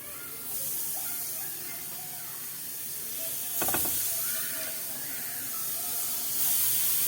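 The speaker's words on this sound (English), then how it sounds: "Pan is hot, patties in." Hamburger patties go into a hot pan and sizzle, a steady hiss that jumps with a sharper burst partway through, followed by continued frying close by.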